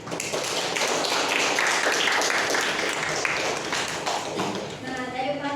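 A classroom group presentation on humans and the environment ends with a burst of steady, dense hand clapping from the students, followed by a voice speaking as the clapping tails off.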